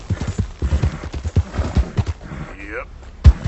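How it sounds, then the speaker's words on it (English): A horse in Red Dead Redemption 2, left dying, gives a rising whinny amid rapid clip-clop hoofbeats and busy game sounds, fairly close and loud, with a sharp thud at the end. "your horse is left dying, fending for its life"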